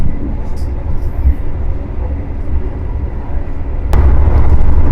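Taksaka express passenger train hauled by a CC206 locomotive, heard from inside the carriage: a continuous low rumble of wheels and track that swells louder near the end, with no talk.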